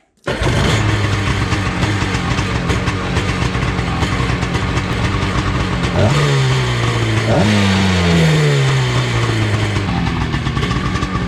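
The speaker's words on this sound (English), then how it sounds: "Hopefully it'll spin the engine over." A 1995-96 Sea-Doo XP jet ski engine turns over and catches right away, settling into a loud, rough idle, then revs up and down twice in rising and falling swells before dropping back to idle.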